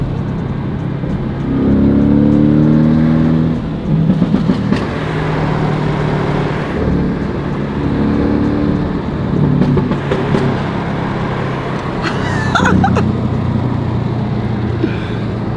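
A Porsche 718 Boxster GTS with its 2.5-litre engine and sport exhaust, heard from close by as a steady idle that swells in a few short revs and settles back to lower revs.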